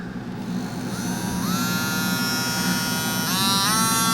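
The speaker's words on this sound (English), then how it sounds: "I got my Dremel that has a little saw blade to it" A small hobbyist Dremel rotary tool fitted with a little saw blade whines steadily close by, its motor pitch climbing twice as it spins up, with no talk.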